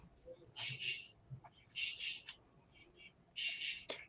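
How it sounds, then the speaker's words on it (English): A loud bird calls at night from a tree nearby, giving three harsh, buzzy rasping calls at roughly regular intervals over a faint background hiss. "I heard this bird in a tree right next to mine, and man, was this sucker loud. I'm just going to play a little bird bit."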